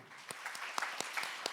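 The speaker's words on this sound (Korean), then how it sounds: "우리 모두를 위해서 박수를 치는 자리로 이 자리를 마감하도록 하겠습니다" A conference audience claps together in a hall at the close of a climate and energy panel session, with brief scattered hand claps in quick succession.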